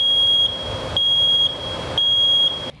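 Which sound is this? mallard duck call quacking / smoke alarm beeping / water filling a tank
smoke alarm beeping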